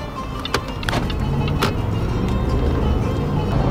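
A car driving on a highway in Dubai at about 110 km/h, steady loud interior road and engine rumble with a rising roar, a few sharp clicks near the start.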